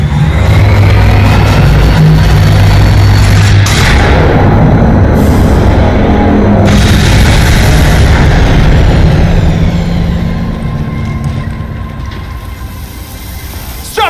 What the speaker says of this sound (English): this fires the laser.